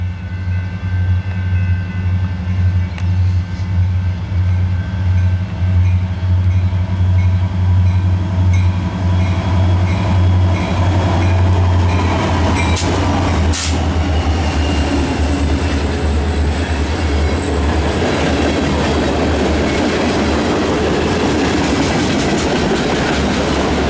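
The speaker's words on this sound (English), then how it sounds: "we got another westbound train approaching on this Memorial Day." A westbound CN freight train rolls past on Memorial Day in Battle Creek, Michigan, a loud, steady rumble of railcars with rhythmic wheel clatter and a brief squeal partway through, continuous and close throughout.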